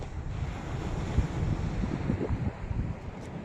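Ocean surf at a beach by the boulevard, a steady low wash of waves mixed with gusty wind buffeting the microphone, continuous with no voices.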